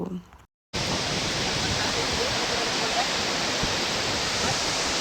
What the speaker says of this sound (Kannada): ನೀರು ತುಂಬ ಇದ್ದಾಗ ನಮಗೆ ಮೇಲೆಲ್ಲ ಬರುತ್ತಂತೆ ನೀರು ಹಾರುತ್ತೆ